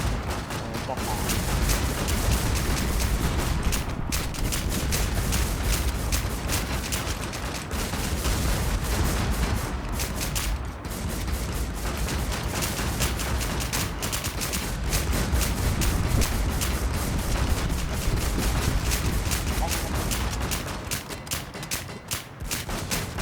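Dense, sustained video-game gunfire, rapid automatic bursts and fusillades stacking into a near-continuous loud barrage with brief gaps, while a voice occasionally talks over the shooting.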